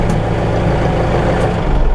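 A diesel truck engine idles close by, a loud, steady low rumble with a regular throbbing pulse and no talk.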